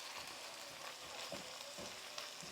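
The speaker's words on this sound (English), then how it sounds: "I want the garlic and ginger to cook and really flavour the meat" Ground beef frying in a pan with chopped garlic and ginger gives a soft, steady sizzle and crackle with faint stirring scrapes, quiet and continuous throughout, with no speech over it.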